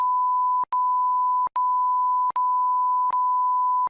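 A steady censor beep sound effect plays as a loud continuous tone, cut by four brief clicks into five long segments, with no speech.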